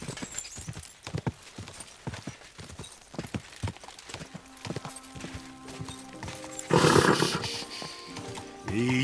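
Horse hooves clip-clopping in Kingdom Come: Deliverance II, a steady rhythmic gait close by, followed later by a louder burst that sounds like a neigh or snort, with no talk.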